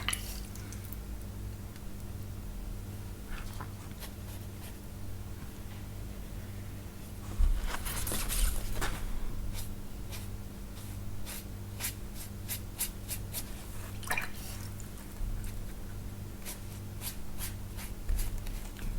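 A wet brush works watercolour paint with lots of water, making soft, quiet squishing and dabbing strokes with occasional louder brushing over a low steady hum, no voices.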